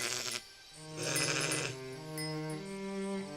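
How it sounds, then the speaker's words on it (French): A ewe bleats in a children's story, a clear, close, wavering cry that rises and falls over a few seconds with no one speaking. "ils voient une brebis couchée"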